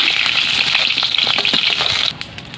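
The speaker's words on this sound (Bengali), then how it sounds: "তো মাছের মাথাটা এরকম ভাজা হয়ে যাবে, তখন আমি তুলে নেব।" A hilsa fish head frying in hot oil in a pan gives a loud, steady sizzle that stops abruptly near the end, with no talk.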